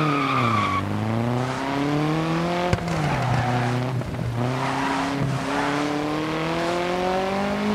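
Opel Manta 400 rally car racing the Baumholder stage in DiRT Rally: a loud, continuous engine drone rising and falling through gear changes, with tire skids and a sharp knock midway, no talk over it.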